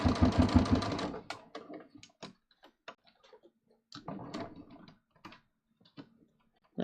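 A sewing machine stitches a neckline for about a second with a fast rhythmic whir, then stops; sparse ticks and clicks follow before a second short burst of stitching while back tacking.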